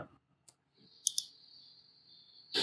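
Keyboard keys pressed while drafting in AutoCAD: a single click, then a quick pair of sharp taps, then a louder burst at the end, set against a faint steady high whine and no talking.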